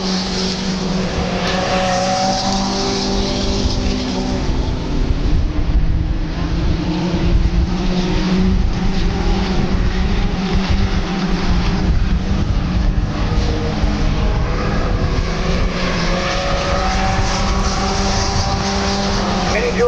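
Stock cars race around Midvale Speedway, engines droning loud and steady for the whole stretch as the pack circles the track, with a commentator talking over the roar.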